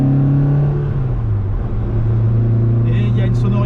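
A small 1995 Peugeot 106 Rallye 1.3 engine drones and hums steadily with a low intake growl, rising slightly in pitch as it accelerates; speech is faintly mixed in.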